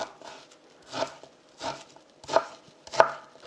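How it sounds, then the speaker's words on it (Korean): Knife chopping a pear into thick julienne strips on a cutting board, five distinct cuts spaced roughly evenly, close and moderately loud, with no talking. "배도 좀 약간 굵게 채를 썰어 주세요"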